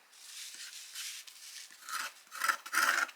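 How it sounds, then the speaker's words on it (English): Scraping surface glue off the spine of a vintage 1980s paperback book, a dry rasping scrape in several close strokes that grow louder toward the end, with no talking. "So again, scraping off a little bit on here, which helps ease the page off."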